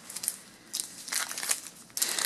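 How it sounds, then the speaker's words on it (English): Foil wrappers on 1988 Topps football trading card packs are ripped open by hand up close, giving bursts of crinkling and tearing separated by brief pauses. "Alright, so these packs just opening right up."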